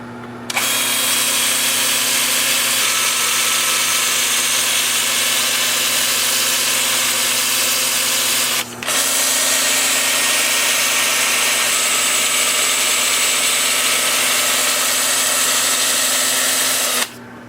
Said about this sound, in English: I'll go in here with my 2-inch sanding disc and get as far as I can get